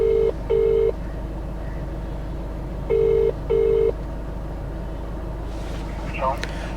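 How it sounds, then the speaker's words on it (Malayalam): A phone call rings out near Thampanoor bus stand: two double bursts of ringback tone, each pair about a second long and repeated after a pause, over steady street and traffic rumble, with brief movement noise at the end. "നമുക്ക് അവരെ ഒന്ന് വിളിച്ച് നോക്കാം കേട്ടോ."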